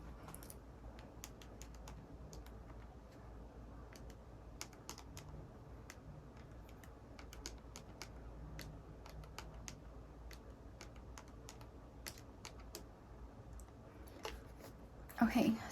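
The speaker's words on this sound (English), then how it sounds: "Here is my handy dandy calculator." Keys on a handheld calculator being tapped in a steady run of sharp, close clicks over a low background hum, with a louder clatter near the end.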